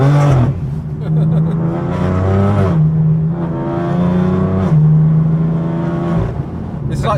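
Tuned BMW M4 accelerating hard in fourth gear, its engine note climbing steadily in pitch, close and loud, while people talk over it throughout.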